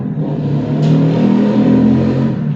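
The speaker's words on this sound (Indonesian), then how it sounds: "ada suara-suara motor, biasalah" A motorbike engine revving nearby, a loud continuous mid-pitched drone that swells slightly as it passes, with no talk over it.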